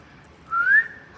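A person whistles a single short rising note, clear and close, in the middle of a quiet kitchen scene with no talking.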